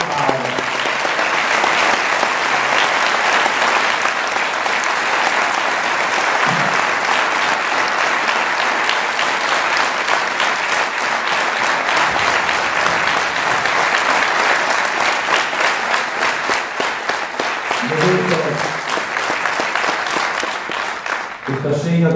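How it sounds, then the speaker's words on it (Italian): A congress audience gives loud, sustained applause, a dense and steady clatter of clapping that carries on without a break. A few voices rise briefly above the clapping. "Fatevi un applauso a Michele Paolo."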